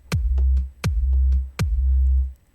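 Three synthesized kick drum hits made in iZotope BreakTweaker, each a sharp snappy attack followed by a deep sine-wave tone swelling in and sustaining before the next hit, evenly spaced and loud with no other sounds.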